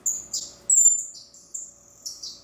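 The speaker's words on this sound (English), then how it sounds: "the first birds out were these guys, and these are black cheek waxbills" Black-cheeked waxbills newly released into an aviary give a series of thin, high chirps, about seven short calls in quick, uneven succession, close and clear against a quiet background.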